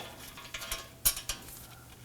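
On a 2018-2024 Toyota Camry rear hub, a bolt is broken free and spun out with a ratchet, giving faint, sparse metallic clicks and ticks in a quiet space.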